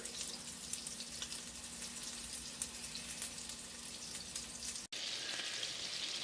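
Swedish meatballs brown in a pan with a faint, steady sizzle and light crackle, briefly cut off near the end before resuming.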